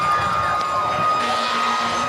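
Spectators at a Friday night high school football game between Notre Dame and North Haven cheer after a touchdown, a steady wash of crowd noise with distant shouts, fairly loud and unbroken.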